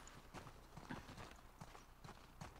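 Hooves clip-clop at an even walking pace in The Last of Us Part II, soft and muted under a constant low hum, a regular pattern of hollow knocks.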